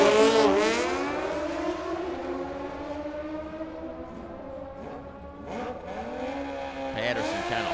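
A drag racing car launches at full throttle at Firebird Motorsports Park, its engine note sweeping upward in a loud rising howl that fades as it pulls away. A second roar builds near the end. No one speaks.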